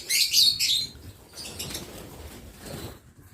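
Lovebirds in a breeding aviary flap their wings in a brief, loud flurry at the start, followed by softer rustling and faint bird movement.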